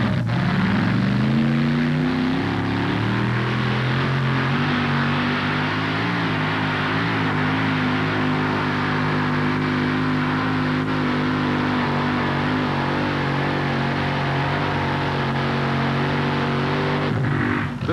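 A 512 cubic inch alcohol-burning big block Chevrolet engine in a pulling truck at a 1987 Fort Wayne truck pull, revving up at the start and then holding a steady, loud, droning roar throughout.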